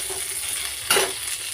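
Green chillies fry in hot oil in a pan for a village-style cucumber tomato chutney, giving a close, steady crackling sizzle with one brief louder burst of scraping partway through.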